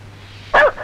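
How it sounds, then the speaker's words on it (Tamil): A dog barks once, a short loud yelp over a quiet background with a low steady hum, from a Tamil film scene. "என்ன நாய் குலைக்குது?"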